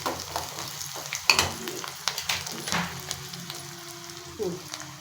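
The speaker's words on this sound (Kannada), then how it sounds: "ಬೆಳ್ಳುಳ್ಳಿ ಗೆಜ್ಜಿಟ್ಟಿದ್ನಲ್ಲ, ಚೆನ್ನಾಗಿ ಫ್ರೈ ಆಗಬೇಕು ಅದನ್ನು." Garlic and curry leaves frying in a pan give a steady, close sizzle, with stirring scrapes and a few sharp clinks against the metal.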